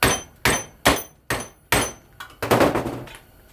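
Ferrite pieces salvaged from a microwave are cracked open in a vise, giving five loud, sharp snaps at a steady pace followed by a rapid cluster of crunching breaks, close up and with no talk.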